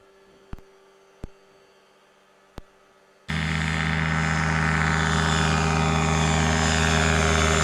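After a few faint clicks, a light aircraft engine suddenly roars up to a loud, steady droning hum as it powers for takeoff from runway 18 at high density altitude.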